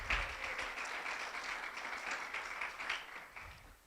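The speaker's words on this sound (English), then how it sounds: "Yeah, you can clap for that." A church audience claps during a sermon, a faint, somewhat distant patter of hands that holds briefly and then tapers off.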